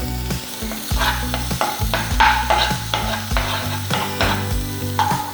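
Ginger-garlic paste sizzles in a hot pan as the base for a prawn roast, with loud, continuous frying hiss and repeated scraping stirs of a utensil close by.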